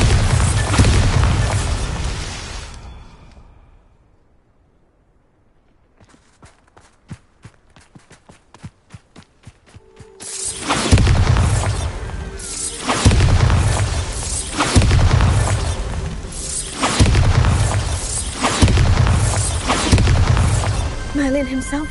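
A Bombarda spell blast in Hogwarts Legacy: after a quiet stretch, crackling magical impacts build into a series of heavy booming explosions, loud and repeated, with game action continuing around them.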